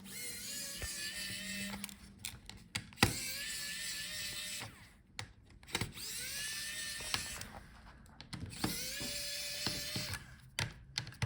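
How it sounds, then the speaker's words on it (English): Screws being removed from the hinges of an HP Omen 15 laptop during a teardown, with a series of short electric-driver whirs and small ratcheting clicks, close and fairly quiet, with no talk. "So unscrew the hinges."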